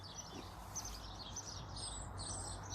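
Sindhi Aseel chicks, young game-fowl chickens, give faint, thin high chirps that repeat over a steady low background hum, soft and somewhat distant.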